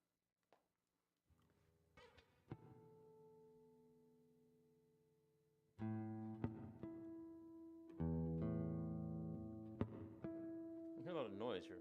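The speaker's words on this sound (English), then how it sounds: "So let me get this in tune." Guitar strings are plucked and left to ring, repeated single notes and chords adjusted in pitch as the instrument is tuned.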